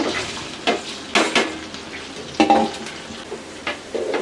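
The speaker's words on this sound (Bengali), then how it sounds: "এই বিরিয়ানির মাংসর তেল দিয়েই আমি এখন চালটা বাগার দিব" Rice being fried in the oil from beef biryani meat in a pot, a close steady sizzle broken by repeated scraping stirs of a spoon against the pot.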